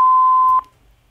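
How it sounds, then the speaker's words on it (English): Answering machine tone sounding after a voicemail prompt: one loud, steady electronic beep lasting about half a second, then cutting off into near silence. "That's a loud beep."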